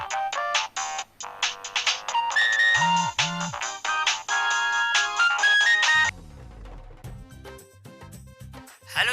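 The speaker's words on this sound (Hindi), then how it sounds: "तुम्हारा फोन बज रहा है" A phone ringtone plays a bright, repeating electronic melody for several seconds, then changes to a lower, softer pattern.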